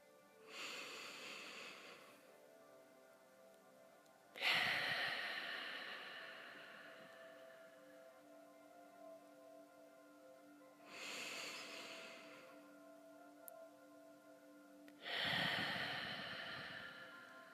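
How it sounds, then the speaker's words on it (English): Slow, deep breaths during a children's sleep meditation, four long broadband inhale-exhale swells spaced a few seconds apart, soft and close with a faint tonal hum underneath. "And just keep breathing nice and deep for me."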